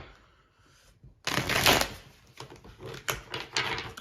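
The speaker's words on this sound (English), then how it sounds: "sounds so dramatic the way I came in with a card shuffle" Tarot deck shuffled by hand after a quiet moment, starting with a loud papery burst followed by several softer card flicks and taps, close by.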